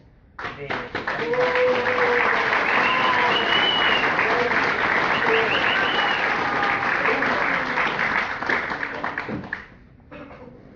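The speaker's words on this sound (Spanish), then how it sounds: "Pues un aplauso para el hermano Felipe Quispe antes." An audience at a book presentation for Felipe Quispe Huanca breaks into loud sustained applause, dense clapping with a few voices that swells quickly, holds for several seconds, then fades.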